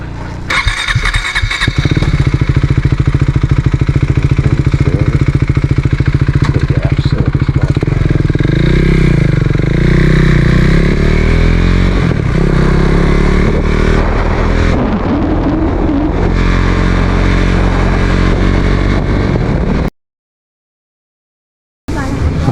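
A motorcycle engine roars loudly and steadily up close, rising and falling in pitch as it rides, then cuts to brief silence.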